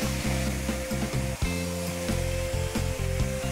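Ridge gourd, eggplant and green chillies frying in hot oil give a steady, close sizzle with bursts of crackle, while clinks and scrapes of a utensil on the pan break in at intervals; no one speaks.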